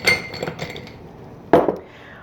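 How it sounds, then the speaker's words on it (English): Ice cubes drop into a glass for an iced matcha latte, a few light clinks clustered at the start and then one louder, sharper clatter, close and with nothing else around them. "Add some ice cubes into our glass."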